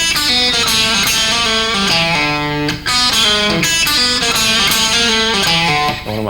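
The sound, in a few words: blues slide electric guitar lick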